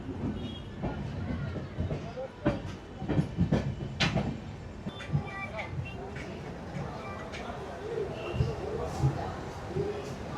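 A train rolls along the tracks towards Santragachi junction with rhythmic clacks, rattles and knocks from inside the carriage, while people talk under the running noise.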